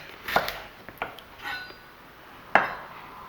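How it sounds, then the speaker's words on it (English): Knife slicing a deseeded pepper into pieces on a board for chilli con carne, a few sharp separate cuts spaced apart, with one crisp chop near the end, close and fairly quiet, no talking. "Cut it in half. Make slices."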